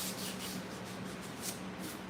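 Sandpaper rubbed back and forth over a heavily primed, epoxied metal dash panel from a 1958 Chevy Apache truck, a steady close abrasive scrubbing with repeated strokes and no voices.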